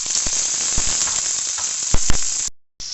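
Tomatoes tipped into fried onions in a pan set off loud, steady sizzling, broken by a few sharp crackles and a short sudden drop to silence near the end before the frying resumes.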